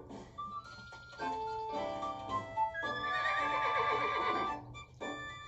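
A horse neighs and whinnies in the Miitopia video game, several bright, wavering calls in sequence with faint clip-clop beneath, fairly quiet overall.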